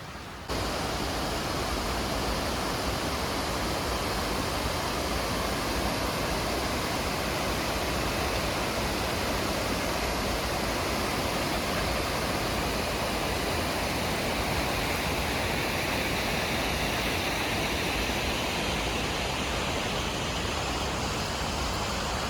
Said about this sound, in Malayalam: വെള്ളം പോയി നിറഞ്ഞ് താഴോട്ടൊരു കുത്തിലേക്ക് ചാടുവാണേ